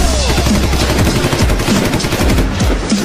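Rapid bursts of gunfire used as a sound effect in a hip hop rap track, loud repeated shots in quick succession over the music.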